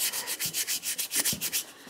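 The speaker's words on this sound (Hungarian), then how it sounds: "Csiszolás." Sanding a surface by hand gives quick, rhythmic scratchy strokes, about a dozen back-and-forth rubs in under two seconds, close and clear with no voices.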